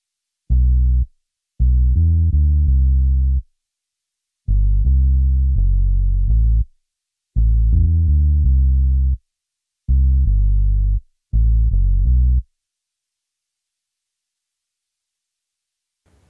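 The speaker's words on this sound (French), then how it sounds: "C'est un whiz bass." Synth bass programmed in FL Studio for a kompa instrumental, playing six loud, sustained note groups in a choppy rhythm of short held bursts separated by brief silences, with nothing else heard alongside.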